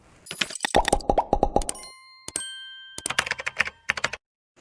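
An animated YouTube subscribe-and-bell sound effect: quick clicks and pops, then a bright ringing ding, then another burst of rapid clicks, with no voices.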